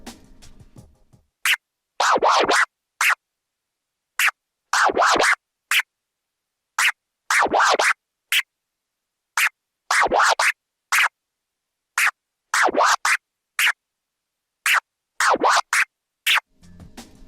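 Quick bursts of record scratching on a DJ controller, a military scratch pattern played double time: rapid, repeated short sharp strokes separated by brief silences, loud and close with no talking.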